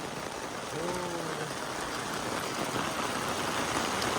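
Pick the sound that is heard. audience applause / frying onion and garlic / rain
rain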